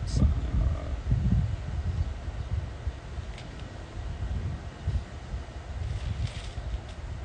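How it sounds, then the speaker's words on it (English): Outdoor wind gusts buffet the microphone, a low, rumbling roar that swells and eases throughout, fairly faint, with no talking. "this wind keep trying to push this book away, my pages away"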